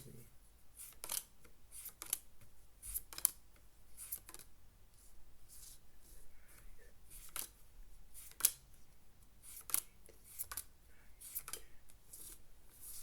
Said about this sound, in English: I have to count out at least 13 cards